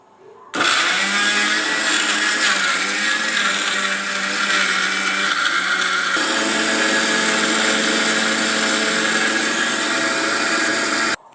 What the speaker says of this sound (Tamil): சரி இப்போ சட்னி அடிச்சு வச்சிடறேன்